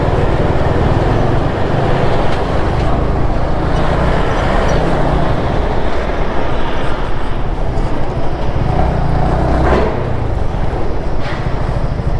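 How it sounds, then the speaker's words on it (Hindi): A train passes along the Kalka line near Solan in Himachal Pradesh with a loud, sustained broadband rumble and roar at close range, holding steady for the whole stretch. "ये ट्रेन जाती है इधर से"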